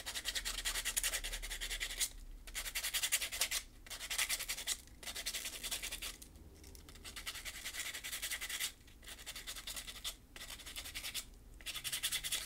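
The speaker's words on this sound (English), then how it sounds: "I could use a little more sanding on the back of his cloak." Rapid rubbing and scratching strokes, steady and close, broken by a few brief pauses, as a miniature figure is finely sanded.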